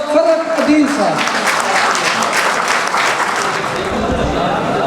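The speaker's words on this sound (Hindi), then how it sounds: "आपकी भरपूर तालियों में" Applause from the audience at an Urdu poetry mushaira in Layyah, a dense burst of clapping that rises as a voice finishes speaking and then carries on steadily on its own.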